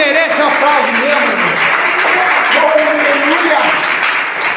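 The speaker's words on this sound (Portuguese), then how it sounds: "Palmas para Jesus, irmão. Palmas para ele." Church congregation clapping steadily throughout, a dense continuous wash of applause with voices talking and calling out over it.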